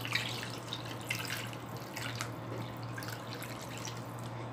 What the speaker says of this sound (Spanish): Lo que vamos a hacer es ponerle las dos tazas con agua.